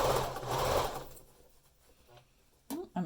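Sewing machine back stitching fabric for an N95 cover mask, a loud steady motor whir that fades after about a second, followed by quiet handling noises and a few brief bumps.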